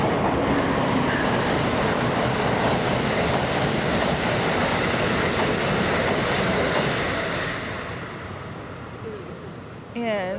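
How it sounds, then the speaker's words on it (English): An express train rushes through a station without stopping, a loud steady roar of wheels and cars filling most of the stretch before fading, with a brief squeal near the end. "That's a train that didn't stop here."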